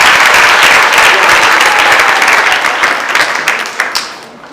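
Loud, dense applause from a large crowd at a worship gathering fills the air, then thins out into scattered individual claps as it fades.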